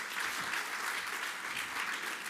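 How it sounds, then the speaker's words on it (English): Steady, full applause from a ceremony audience at a citation event, a continuous dense patter of many hands held at an even level throughout. "A huge, huge round of applause, ladies and gentlemen."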